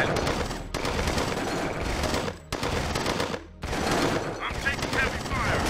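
Sustained automatic gunfire fills a battle in Command & Conquer: Tiberian Sun, loud dense bursts broken by two short pauses, with game unit voice lines mixed in.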